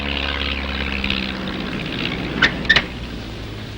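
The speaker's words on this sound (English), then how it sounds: "It'll pass right over the island." A propeller plane flies low over an island at night, its steady engine drone filling the background while a couple of small sharp clicks sound close by.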